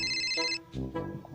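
A bright electronic phone ring cuts off, followed by short low vocal sounds nearby.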